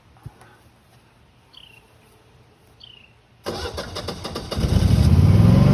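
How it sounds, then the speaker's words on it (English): A generator engine cranks and fires up outdoors after a quiet stretch with faint bird chirps, then settles into a loud, steady running rumble that builds and holds. "Generator just fired up."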